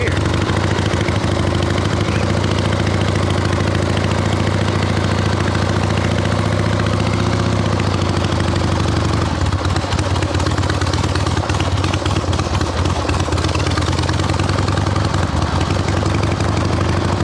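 XLCH chopper motorcycle pulling away in first gear on gravel, a loud, steady, rumbling engine note with clatter that shifts pitch midway as it moves off.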